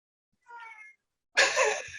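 A cat meows twice, the first call faint and short, the second louder and longer, close by in an otherwise quiet room.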